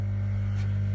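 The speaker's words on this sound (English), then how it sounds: "so the pump comes on. Sorry about the noise." A pond filter pump runs with a steady low electrical hum and faint hiss, constant and unchanging throughout.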